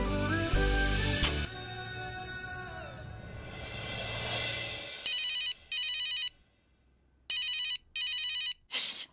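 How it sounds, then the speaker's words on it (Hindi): A phone rings in repeated electronic bursts, two pairs of rings separated by brief silence, following a loud swelling whoosh. "अनंत का फोन है।"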